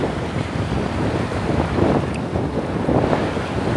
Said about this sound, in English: I was noticing the waves